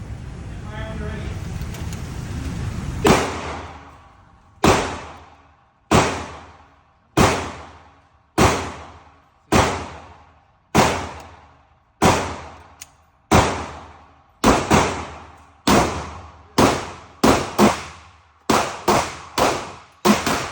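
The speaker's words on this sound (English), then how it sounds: "Line up your sights. And fire when you're ready." Ten-millimetre Glock pistol fired repeatedly, about fifteen sharp close shots in a steady then quickening cadence, each crack ringing out briefly, after a few seconds of talk at the start.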